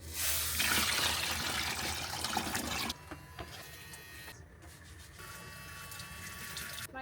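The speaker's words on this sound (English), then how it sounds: "This pump gets submerged and then water comes out of here." The submersible pump of a portable van shower kit runs, pushing out a loud rushing hiss of water at first that then drops to a quieter, steady flow with a faint hum.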